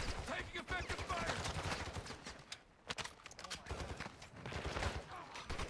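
Gunfire rattles in Call of Duty DMZ, with rapid bursts of automatic shots and scattered single cracks coming fairly close. The firing runs under players talking.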